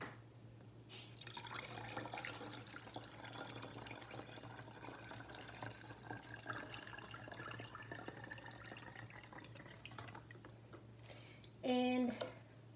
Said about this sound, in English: This is the third time to wash the rice